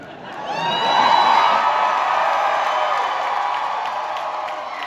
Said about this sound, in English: I want you to cheer louder about this announcement than you did about Anaheim